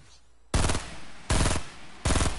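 Gunfire in a video game: three loud, separate bursts of shots, each lasting about a quarter second, spaced roughly evenly and heard alone with no talk.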